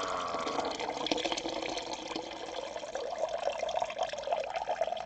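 Steady rushing and splashing of water pouring out through a drain plug in an ice chest cooler on a motorcycle trailer, continuous and fairly close, with no voices.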